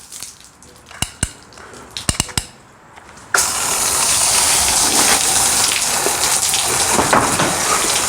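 Hose water rinses the sweat off a horse: a few sharp knocks and taps come first, then a loud, steady spray of water hits the horse's coat and carries on without a break.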